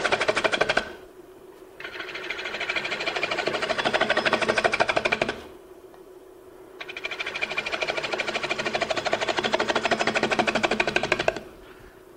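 A wood lathe turns furniture stock while a gouge cuts a flat surface, giving two sustained bursts of dense rasping and whirring separated by brief quieter gaps where the tool lifts off.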